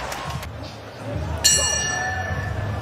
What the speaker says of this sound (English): To the bell they go.